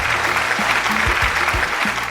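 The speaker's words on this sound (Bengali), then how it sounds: "একটু জোরে হাততালি" Students clap together in a classroom, a short burst of dense, close applause filling the whole moment.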